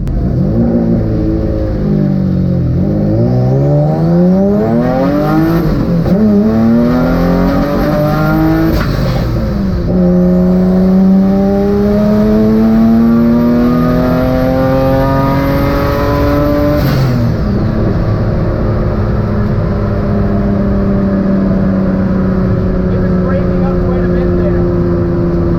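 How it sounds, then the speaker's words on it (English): A loud twin-engine Mazda MX-3 drag racing car engine revs hard through rising gear pulls, pitch climbing repeatedly as it accelerates, then settles into a steady high drone. "Hopefully this is my last pass testing out the rear engine"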